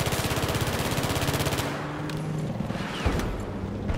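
Battlefield 4 gunfire: a rapid, steady machine-gun rattle, loud and close, gives way to scattered shots and rumbling booms over a continuous battle din.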